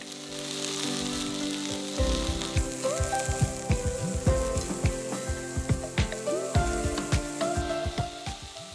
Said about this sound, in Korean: 양파를 넣고 볶아줍니다